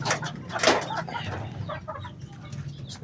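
Gamefowl chickens peck and cluck close by over wet feed, with soft irregular taps and a brief flurry of wing flaps against a low steady hum.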